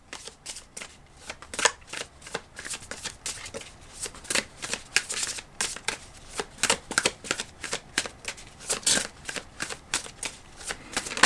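Tarot cards are shuffled close by, a long run of quick riffling bursts and soft flicks repeating in an uneven rhythm, with no one speaking.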